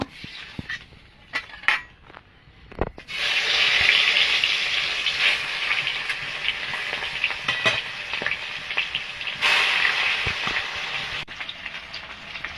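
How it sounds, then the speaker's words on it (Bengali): Pangas fish sizzles loudly in hot oil in a kadai, a sharp burst of frying that settles into a steady hiss, with a few clinks and stirring sounds around it and no talk. "কড়াইতে তেল দিয়ে দিয়েছি, তেলটা গরম হয়ে গেছে,"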